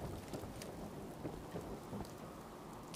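Rainfall in the video game Fallout 4, a dense, steady patter with a low thunder rumble underneath, heard alone at moderate volume.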